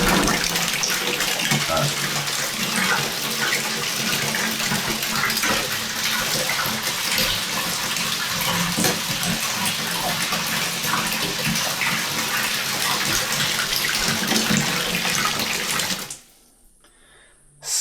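Water gushes loudly and steadily from a turned tap into a bucket, a close, continuous splashing rush that cuts off abruptly near the end, with brief talk over it.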